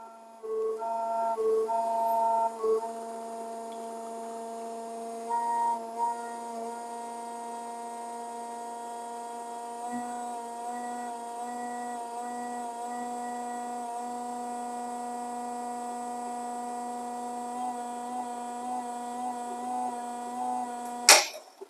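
A VBM Domobar Super Electronic dual-boiler espresso machine with a gear pump pulls a single shot: a steady, close mechanical pump hum runs throughout, with small clicks near the start and a brief click as it shuts off at the end.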